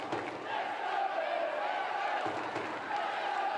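Home crowd at a Women's Super League football match, Aston Villa against Tottenham: a broad, steady roar of stadium voices filling the background under a commentator's talk.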